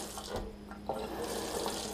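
Water from a newly installed kitchen faucet gushes into the sink at full flow, a steady near splashing rush running the whole time without speech.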